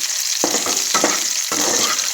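Mustard seeds, onion and green chillies sizzle steadily in hot oil for semiya upma, with three distinct stirring scrapes breaking through the continuous close, loud frying hiss.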